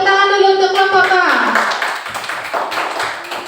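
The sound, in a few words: classroom children clapping hands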